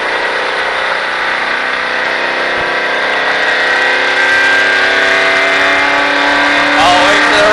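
A stock car on an oval track during a Richard Petty Driving Experience run, its engine roaring loudly and steadily as the throttle reopens. The pitch climbs gradually as the car accelerates.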